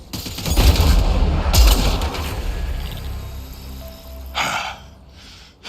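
Grenade explosion and gunfire in the sci-fi shooter Mass Effect Andromeda, with two heavy booming blasts early on, a burst of shots near the end, and a fading rumble between.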